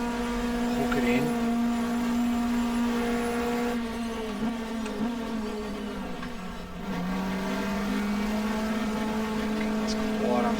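A 1994 Australian Manufacturers Championship touring car at Phillip Island in the GTR2 racing game holds a steady, sustained engine drone at high revs, with small pitch dips around gear changes and no pause.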